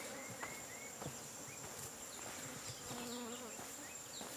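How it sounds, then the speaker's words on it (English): A bee buzzes persistently around the area outdoors, its drone rising and falling as it circles close by at a steady, moderate level with no talk. "this bee is just not giving up"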